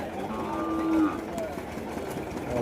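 Kangayam breed cattle at a Kundadam cattle market, with one clear drawn-out moo against a busy market background while people talk nearby.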